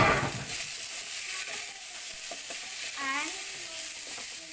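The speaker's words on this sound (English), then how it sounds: "And just saute for just a few seconds." Squid and tomato sautéing for Filipino adobong pusit, giving a steady bright sizzle close to the pan, with a brief word spoken at the start.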